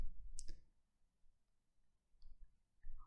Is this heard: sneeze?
no